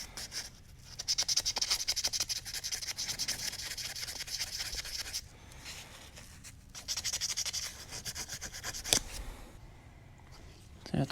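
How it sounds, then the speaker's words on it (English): Sandpaper of 800 grit rubs a small dirt bike carburetor part in quick, dry scratchy strokes, coming in two close bursts separated by brief pauses. "we're just gonna use some 800 grit sandpaper"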